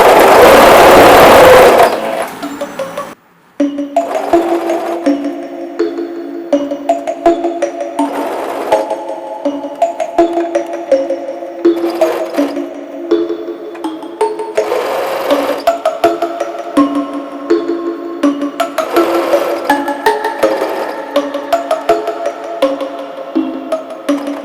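A sewing machine stitches fabric in a tailoring lesson, running in steady bursts of fast mechanical needle rhythm with brief pauses for adjustment, loud and close after a short noisy start, with no talk over it.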